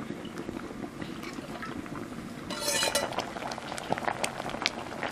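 A pot of sambar with vegetables bubbles steadily on the stove, with a brief hiss midway and light clinks of a utensil against metal.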